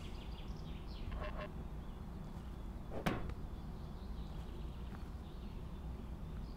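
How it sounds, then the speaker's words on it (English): Bird calls in the Sally Face video game, a few faint quack-like cries drifting over a low ambient hum, with one sharp clattering knock in the middle. "Maybe it was just those darn birds again."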